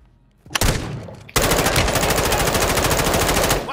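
Automatic gunfire from Call of Duty: Modern Warfare II: a short loud burst, a brief pause, then a long sustained rattling stream of rapid shots that runs nearly to the end, close and dominant.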